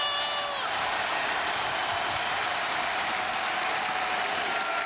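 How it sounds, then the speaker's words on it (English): Crowd cheering and applause replayed from an RTE and BBC broadcast, a dense, continuous roar of clapping and voices that stays loud and unbroken throughout. "So that's very clearly an awful lot of cheering"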